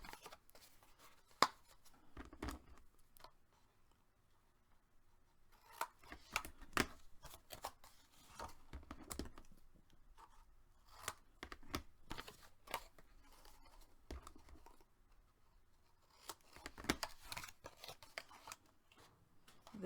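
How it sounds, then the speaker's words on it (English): Scissors snip through chipboard in a quiet craft setting. Scattered clusters of close, crisp cuts come in bursts, separated by near-silent pauses. "slightly taper by resting my scissors up against the chipboard and doing just a very slight angle"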